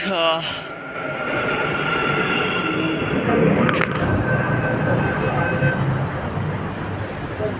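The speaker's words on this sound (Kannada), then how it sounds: "ಫೈನಲಿ ಟ್ರೈನ್ ಬಂತು" A train pulls into Majestic railway station, opening with a brief tonal horn before a sustained rumble and rattle of wagons rolls close by at moderate loudness.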